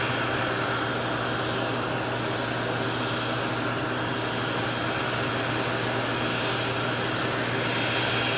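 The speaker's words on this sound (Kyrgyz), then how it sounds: "Москвадан Лихачев атындагы Airbus A312 учагы менен 79 жүргүнчү учуп келген" An Airbus passenger airplane arriving from Moscow, its engines a loud, steady drone with a constant low hum, sustained throughout without talk.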